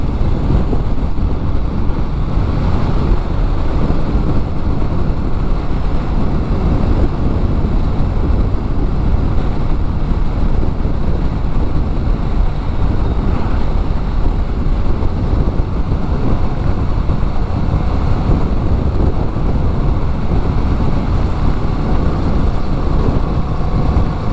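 A Honda Rebel 1100 motorcycle cruising on the open road under cruise control, heard as a constant loud roar of engine and rushing wind buffeting the microphone, unbroken throughout.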